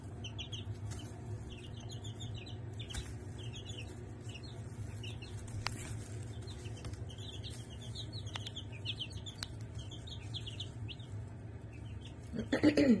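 Five-day-old chicks in a brooder give a steady stream of high, soft peeping chirps over a constant low hum, with a brief louder scuffle at the end.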